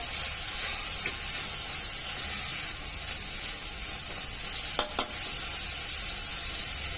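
Sprouted mung beans sauté in hot oil with a steady, close sizzling hiss, broken by a couple of brief clicks from a utensil.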